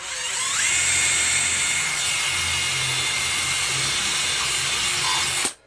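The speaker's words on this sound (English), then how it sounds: "We got a little pilot bit. We got a nice little drill." A small power drill fitted with a little pilot bit whines steadily as it bores into a double-layered sheetrock wall, running close and continuous for several seconds before cutting off abruptly.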